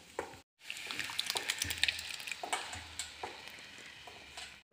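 A pan of dal being stirred on the stove while it cooks, with close scraping strokes and a soft bubbling sizzle, repeating through the clip with a brief pause near the start.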